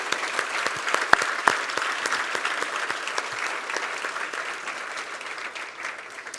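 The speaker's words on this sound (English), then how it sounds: "Let's have a round of applause for our semifinalists." A crowd applauds semifinalists at the 2018 Maine Family Business Awards ceremony. The steady, dense clapping has a few sharper, nearer claps standing out early on, and it eases off gradually.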